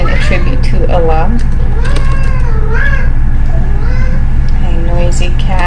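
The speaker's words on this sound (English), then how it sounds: "A noisy cat, also attributed to Allah" A noisy house cat meows loudly and repeatedly in close, drawn-out wailing calls, with a faint steady hum underneath.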